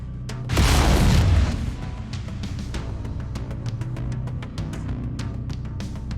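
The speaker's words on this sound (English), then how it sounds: "Lasers are mapped to Weapon Group 2. Fire them when ready." Laser weapons fire from a mech in MechWarrior 5, a loud, close burst lasting about a second that fades into a low rumble with faint repeated clicks and no speech.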